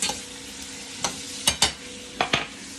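Portobello mushrooms sautéing in a pan, a steady close sizzle broken by a few sharp clacks and scrapes of stirring, with no voices.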